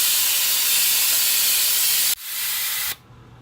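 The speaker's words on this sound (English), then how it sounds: "it's going to make a little bit of noise because the air is escaping" Loud, steady hiss of compressed air escaping from a spray booth, cutting off abruptly, then a quieter hiss that also stops, leaving a faint low hum.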